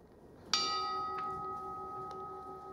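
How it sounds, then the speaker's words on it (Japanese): A departure bell rings on Izu Oshima with one sharp, clear strike that hangs and rings on. Two fainter taps follow as the tone slowly decays. "出発の鐘ということで、ちょっと苦戦してますけどね"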